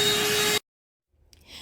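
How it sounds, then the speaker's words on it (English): Black+Decker Dustbuster AdvancedClean cordless handheld vacuum whirring with a steady high motor whine close by, cutting off abruptly after half a second, followed by silence and faint handling rustles. "I picked up this handy dandy handheld cordless vacuum by Black+Decker"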